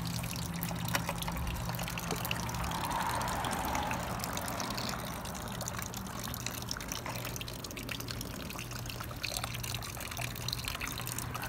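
Distilled water trickles and pours steadily through the cooling system of a 2001 Triumph Sprint RS 955i motorcycle during a radiator flush, a constant low wash of liquid running on alone with no talk.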